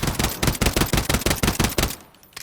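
AN-23 Abakan fired in rapid bursts in Call of Duty Modern Warfare III, about a dozen fast, evenly spaced loud shots in a tight rhythm, then a brief quiet tail.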